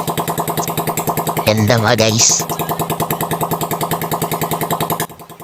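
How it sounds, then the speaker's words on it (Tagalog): A restored rusty engine runs with a steady, rapid chugging pulse, loud and close, while someone speaks briefly over it. "ito na nga yung makina guys, napaandar na namin"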